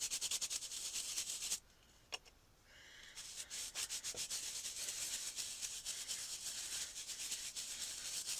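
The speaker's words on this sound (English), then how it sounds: "And you just scrub your stamp like that." A rubber stamp is scrubbed back and forth on a stamp scrubber pad used to clean archival ink, making close, soft, rhythmic rubbing strokes that pause briefly partway through before resuming.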